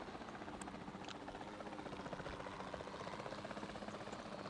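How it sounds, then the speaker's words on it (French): A helicopter in the video game Jurassic World Evolution 2 hums faintly with a steady pulsing rotor and engine drone in the background, quiet and unbroken, without speech. "je sais pas pourquoi l'hélico il avance pas tout le temps"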